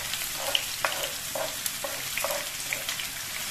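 Four large chopped onions with whole cumin seeds fry in a pan on a low gas flame, giving a steady soft sizzle broken by several sharp taps and scrapes of a stirring utensil.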